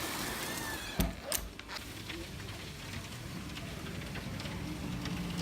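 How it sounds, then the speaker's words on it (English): Steady rain falls on a wet Portland street, a constant hiss of drops with a couple of brief knocks near the start, heard alone. "Look at this rain."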